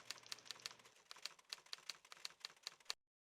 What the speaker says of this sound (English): Follow the typing.